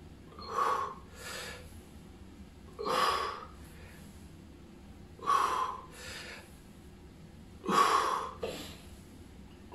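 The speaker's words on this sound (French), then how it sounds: "N'oubliez pas de souffler." Heavy, forceful exhalations come at the effort of each bodyweight push-up rep, four sharp breaths spaced about every two and a half seconds, close and clear over a quiet background.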